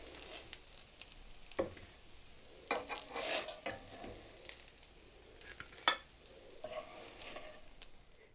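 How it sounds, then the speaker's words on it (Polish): Egg cutlets frying slowly over low heat in a pan, a soft steady sizzle with intermittent louder crackles, stirring scrapes and sharp clinks, close and fairly quiet, no voices. "Kotlety się smażyły na wolnym ogniu"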